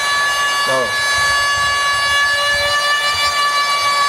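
A small portable car vacuum cleaner whines steadily at a high pitch as it blows air, continuous throughout, with a voice speaking quietly underneath.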